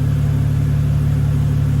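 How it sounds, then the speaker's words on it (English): A BMW E90 328i engine idling after a crank sensor fault repair, a loud, close, steady low rumble with an even pulsing rhythm and no revving. "So I'm gonna unplug that, let it run for a while, take it for a spin, see how she runs."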